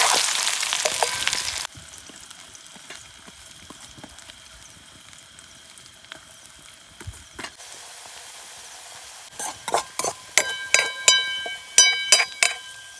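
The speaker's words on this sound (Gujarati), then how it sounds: "ચલો મિત્રો અમે વઘાર કરીએ." Spices tempering in hot oil for a Gujarati vaghar, a dense close sizzle that fades after a loud opening burst, then sharp crackling pops and spits rising near the end, with no voices.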